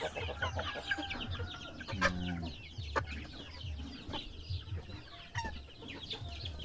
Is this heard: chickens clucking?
yes